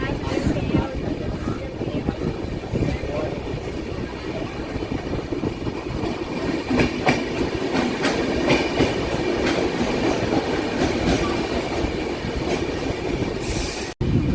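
CSMT–Mangaluru Superfast train speeding past on the Konkan Railway line, a loud, steady roar of wagons with clattering wheels and faint squeals sustained throughout, ending abruptly.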